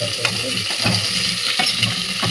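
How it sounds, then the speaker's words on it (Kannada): Chopped vegetables frying in a tempering for vegetable sambar, a loud continuous sizzle with occasional stirring clatter up close. "ಇವಾಗ ಹಚ್ಚಿಟ್ಕೊಂಡಿರೋ ತರಕಾರಿ ಎಲ್ಲ ಕೂಡ ಒಂದು ಒಗ್ಗರಣೆ ಹಾಕ್ತಾಯಿದ್ದೀನಿ."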